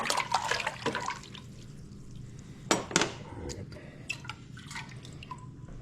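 Pickle brine stirred in a jar for fermented pickles: scattered liquid sloshes, drips and light clinks of the utensil against glass, close by in a quiet room, with a couple of sharper knocks midway.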